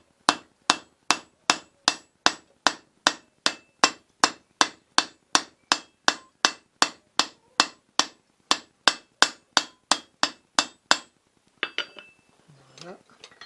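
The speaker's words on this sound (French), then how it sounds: "pour découper on va utiliser une tête de hache que j'utilise comme tranchée d'enclume" Forged steel being cut on an axe head set in an anvil as a hardy, about thirty sharp, evenly spaced metallic hammer blows ringing close and loud, followed by a few softer clinks and shuffling.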